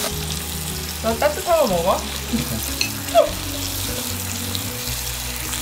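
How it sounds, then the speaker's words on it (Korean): Marinated galbi sizzles in a pan over medium heat, a soft steady frying hiss running throughout while people talk briefly nearby. "중불에서 구워야 양념이 타지 않아요"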